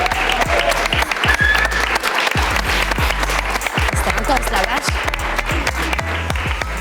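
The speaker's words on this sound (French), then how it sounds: "je pense qu'on peut t'applaudir" Studio audience applauding steadily at the close of a Hot Ones hot-sauce interview show, dense continuous clapping throughout, with a voice speaking briefly over it.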